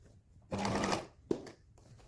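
A sewing machine stitches binding onto a quilted waistcoat in one short close burst, then a single sharp clack, with quiet pauses on either side.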